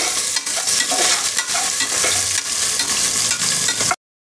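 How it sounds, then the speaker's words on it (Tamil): Onions sizzle and fry steadily in a pan while a mutton curry is prepared, a loud, continuous crackling hiss with occasional stirring scrapes and no talking. "இப்போது வெங்காயம் ஆட் பண்ணியாச்சு வெங்காயம் நல்லா வதங்கட்டும்"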